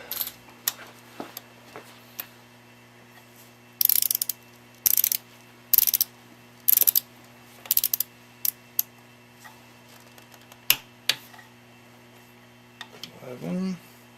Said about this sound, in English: Go back to 28 with the 10mm socket.